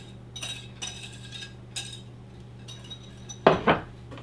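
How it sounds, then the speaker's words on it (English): Vegetables are stirred with sauce in a bowl, giving a few sparse clinks and scrapes of a utensil against the dish, close and fairly quiet, ending with a couple of louder knocks. "We're going to stir it all together gently"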